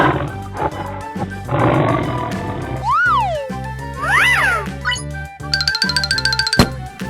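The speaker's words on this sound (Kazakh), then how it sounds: "қабылан" A leopard gives a rough, raspy roar over background music, with cartoon-style boings and chimes following it.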